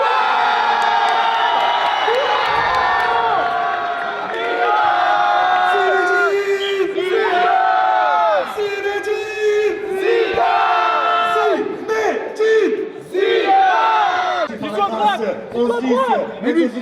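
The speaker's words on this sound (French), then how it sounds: "Applaudissements." A lively crowd at a football event cheers and shouts continuously, with whoops and yelling voices rising and falling over a steady roar, loud and close throughout.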